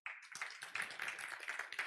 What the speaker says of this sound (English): Folks, by applause, who thinks it's option A?